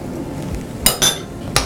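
A spoon stirs cornflour and milk into a pot of broccoli almond soup, giving a few light clinks against the pot in a brief quiet stretch.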